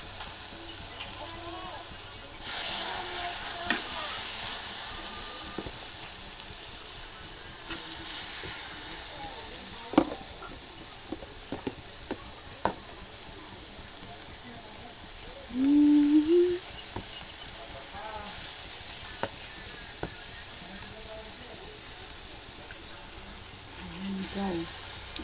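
Chicken pieces sizzle and hiss steadily in a hot frying pan, a close, continuous crackle with a few sharp spikes as pieces land and shift, and a brief louder burst partway through.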